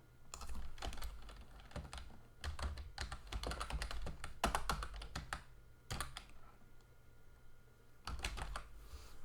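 Keys clatter on a computer keyboard while a file is renamed, in quick bursts of close, crisp typing separated by short pauses, with no speech.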